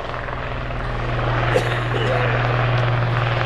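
A Royal Navy Lynx HAS3 helicopter from 815 Squadron flies at the East Fortune Airshow, giving a steady rotor and engine drone with a low hum that swells slightly, under a commentator's voice.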